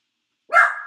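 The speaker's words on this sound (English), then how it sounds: "I was just making sure she wasn't barking at something outside because we're like 4 stories up" A single dog bark indoors in an apartment several stories up, sharp and close, breaking out of silence and trailing off briefly; no talk.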